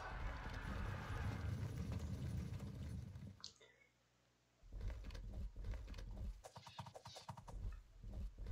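Horses galloping in the Sengoku Jidai strategy game at a battle of Anegawa, 1570: dense, loud clip-clop of many hooves pounding steadily, dropping out briefly midway before resuming at full strength.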